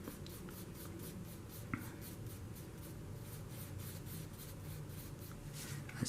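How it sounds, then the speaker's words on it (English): A pencil sketches a dog on paper with quick, light, repeated scratching strokes in a steady rhythm, soft and close, with no talking. "Okay, so I sketch it in there."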